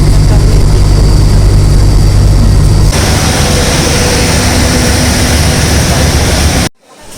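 A loud, steady engine drone hums in Doha's Qatar airport during a transit stop, with a deep low rumble that shifts partway through and cuts off abruptly near the end.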